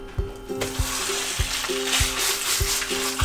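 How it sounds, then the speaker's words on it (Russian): Minced meat sizzles loudly in oil in a hot pan, a continuous crackling hiss, with a steady thumping beat of music underneath. "Подливаем на нее масло и отправляем обжариваться фарш."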